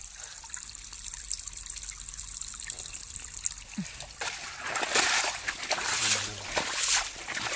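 Splashing into water, quiet trickling at first, then louder sloshing and splattering bursts toward the end, close by.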